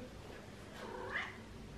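A pet cat lets out a drawn-out, whiny meow with a complaining edge, close and soft, alone against a quiet room.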